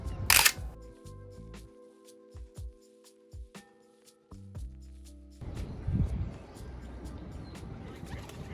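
Mechanical clicks and whirring bursts from a Japanese 35mm film SLR with a 50mm f/1.8 lens and a bottom-mounted automatic winder, several short motor-drive pulses following a loud initial snap, with background noise rising near the end.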